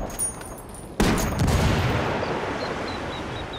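A frag grenade blast in the shooter Ghost Recon Wildlands, one sudden loud boom about a second in that rolls off into a long, fading rumble, with no talk.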